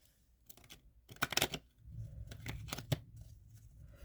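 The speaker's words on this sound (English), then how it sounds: "Give them a little shuffle here." A deck of cards is shuffled by hand, with a few quick riffling bursts and soft flicks and taps, close and fairly quiet, with no speech.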